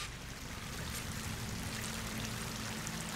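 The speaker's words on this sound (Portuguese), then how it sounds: "Essa água deve estar vindo de algum lugar." Steady flowing water in the game Horizon Forbidden West, a constant broadband rush like a stream or pouring runoff, loud and continuous throughout with no voices.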